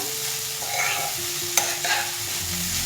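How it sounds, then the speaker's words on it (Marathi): Sago pearls (sabudana) stirred and fried in oil for sabudana khichdi, a steady close sizzle with scraping spoon strokes through the middle and a couple of sharper clinks, no talk. "साबुदाणा चांगला तेलामध्ये परतून घ्यायचा।"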